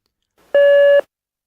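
A single clean electronic answering machine beep, steady and clear, lasting about half a second in otherwise silent surroundings.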